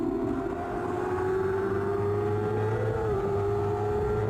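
A superstock racing motorcycle at a Roebling race accelerates hard out of a corner, its engine holding a loud, steady, rising drone close by.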